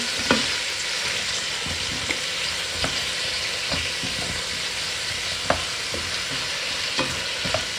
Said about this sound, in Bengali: এই হলো খিচুড়ি ভাজা